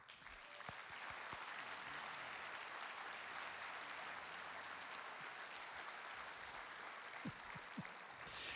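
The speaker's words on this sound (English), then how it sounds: "let us Thank you with a round of applause" Luncheon audience at a scholarship event applauding the advancement team, a steady wash of many hands clapping from a distance that stays even and sustained for more than eight seconds.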